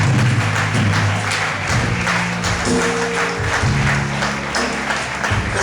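A church congregation at a Sunday worship service applauds to acclaim the Lord, sustained clapping and cheering at a steady level with music or instruments continuing underneath.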